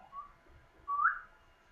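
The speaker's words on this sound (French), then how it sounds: "t'es en train de siffler" A person whistles two short rising notes, the second louder and longer, alone and close, with no talk over it.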